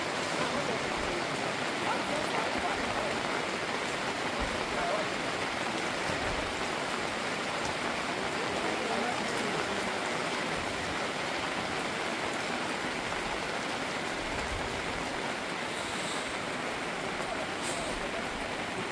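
Steady, heavy rain hisses evenly throughout on a foggy mountain trek route to Kedarnath, a dense wash of noise close by with no breaks.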